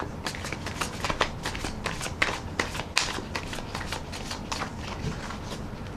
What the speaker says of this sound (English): I want to put one more shuffle and rifle on the deck